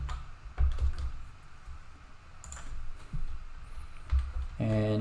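Someone types a formula into an Excel spreadsheet on a computer keyboard, producing scattered soft key clicks and taps in short irregular bursts, heard close and quiet, with a brief voice starting right at the end.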